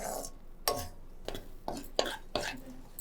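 A spoon stirs a sweet mixture in a pan until it browns, making about five rhythmic scraping strokes, each a brief rough swish against the metal, close and moderately loud over a low background hiss.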